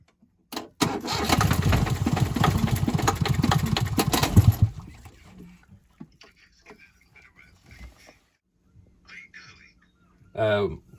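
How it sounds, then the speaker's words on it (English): A sailboat's small engine sputters to life and revs loudly for about four seconds, then cuts out, followed by quiet shuffling and a brief voice. "Giving it a few more revs because it will start"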